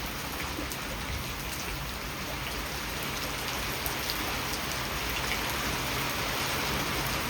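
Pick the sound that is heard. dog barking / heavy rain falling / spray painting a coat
heavy rain falling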